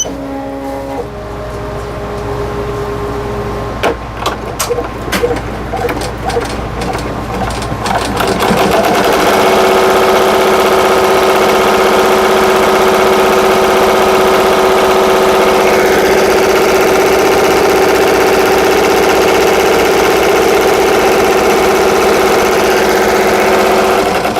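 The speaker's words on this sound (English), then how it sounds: "And now I'm going to sew it down." Sewing machine stitching down the pocket on a handbag, starting with a few short bursts of stitching and then running loud and steady for a long continuous seam at close range.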